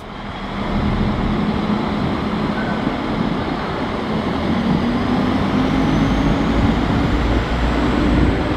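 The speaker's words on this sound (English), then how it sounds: "here we can see our train leaving Frankfurt" Steady heavy rumble of a Pesa Link train leaving Frankfurt station, a continuous low drone with faint hum that grows slightly louder as it goes.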